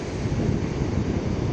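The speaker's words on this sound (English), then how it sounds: "show you a bit more of these waves" Sea waves off the coast in Denmark, a continuous loud wash of surf mixed with heavy wind rumble across the microphone, with no voices.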